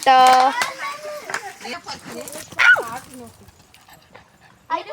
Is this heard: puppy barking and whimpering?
yes